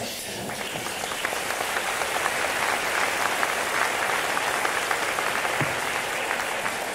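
Audience applause fills a Tulsa State of the City address, a steady wash of many hands clapping at once that holds evenly throughout at moderate loudness, heard from within the hall.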